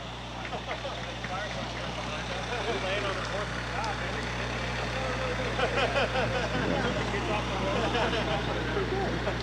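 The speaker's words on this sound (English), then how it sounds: "And the second fire truck here." Fire truck rolling along in a college homecoming parade, a steady low engine rumble under broad crowd noise and background chatter, with some rise in activity toward the end.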